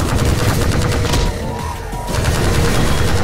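Dense, loud gunfire rattles almost continuously in Half-Life 2 Episode 1, a heavy barrage of shots that eases briefly in the middle before resuming at full intensity.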